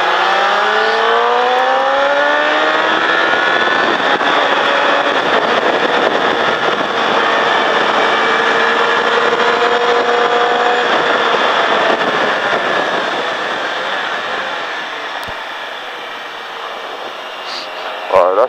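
A motorcycle engine drones loudly and steadily around the Mettet race track, its pitch rising and easing as the throttle opens, then fading slightly before a short burst near the end.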